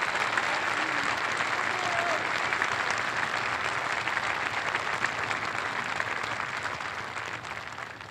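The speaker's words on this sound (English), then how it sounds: "Give him a round of applause." Sustained, dense applause from a large crowd at the U.S. Coast Guard Academy Class of 2025 commencement, steady and loud throughout before tapering slightly at the end.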